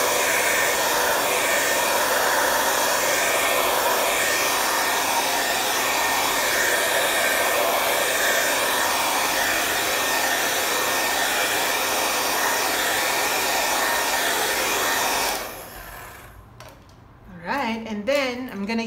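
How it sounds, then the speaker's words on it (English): A hair dryer blows with a steady, loud, broadband whoosh for about fifteen seconds, then cuts off, leaving quieter faint sounds. "I'm gonna use my hair dryer just to dry things quickly."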